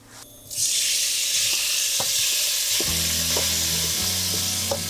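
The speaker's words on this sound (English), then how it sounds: "So you'll cook the meat for about 8 minutes, making sure that all the sides are brown, and give it a good stir now and then." Cubed chuck roast sears loudly in olive oil in a Dutch oven, a steady hiss rising in after a quiet start, with a few scattered knocks and scrapes from stirring partway through.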